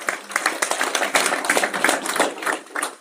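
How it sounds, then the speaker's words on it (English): Audience applause and clapping at a live wealth-builders event, a dense patter of many hands filling about three seconds at steady moderate loudness with no talk over it. "give them a round of applause"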